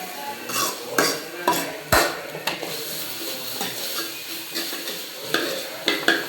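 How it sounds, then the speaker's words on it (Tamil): Chopped onion with ginger-garlic paste sautés in a pan for a kurma, a steady soft sizzle broken by repeated scraping stirs and clinks of a spoon against the pan, close and alone. "இந்த இஞ்சி பூண்டு ரா மல் போகிற வரைக்கும் நல்லா கொஞ்சம் வதக்கிக்கணும்"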